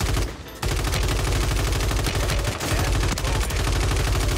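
Rapid, loud gunfire in the Warzone video game, a dense continuous burst of shots with a brief gap near the start, with no talk over it.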